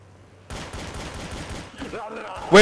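Automatic gunfire from the Garry's Mod video game, a dense, continuous rattle of shots that starts abruptly and runs steadily, with a voice and a sharp louder burst near the end.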